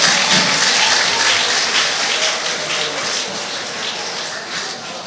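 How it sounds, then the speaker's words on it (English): Audience applause at a Nigerian programme event, loud and dense clapping that starts strong and gradually softens, a rushing wash of hands with no speech. "Another round of applause for him"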